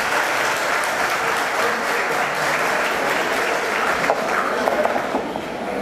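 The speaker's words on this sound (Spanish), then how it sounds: "Fuertes los aplausos para él." Wedding guests at a church ceremony clap loudly and steadily for several seconds, a dense wash of many hands with a few voices murmuring beneath the applause.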